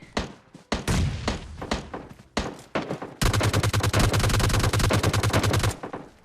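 Gunfire in the PUBG Lite video game: scattered loud single shots and short bursts, then a sustained rapid automatic volley of sharp, close reports firing in quick regular rhythm before cutting off.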